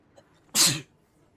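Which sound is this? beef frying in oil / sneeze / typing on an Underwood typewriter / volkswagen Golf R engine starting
sneeze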